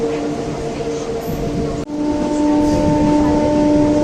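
Steady rumble of a moving local train between Masagram and Shaktigarh stations on the Howrah–Bardhaman line, with a constant low hum and rattling, a brief clunk midway, then the running noise grows a little louder.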